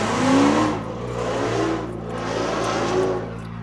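Acura NSX hybrid car pulls away with a sustained engine drone that swells and eases in two broad surges, heard from inside or close by, loud and steady without talk.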